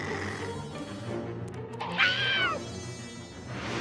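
A cartoon zombie cat lets out a single rising, wavering yowl about two seconds in, short and fairly loud over a busy animated-show soundtrack.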